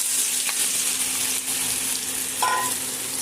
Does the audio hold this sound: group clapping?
no